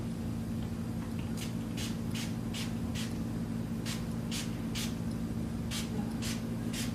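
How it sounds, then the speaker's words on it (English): Short hissing bursts of chakra healer spray come in an irregular series of about a dozen quick pumps, close and soft over a low steady hum, with no voices. "I bring in some chakra healer spray."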